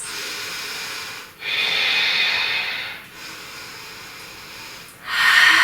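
Deep yoga breaths held in warrior 2 pose: slow, close, airy inhales and exhales, three long breathy waves separated by short pauses.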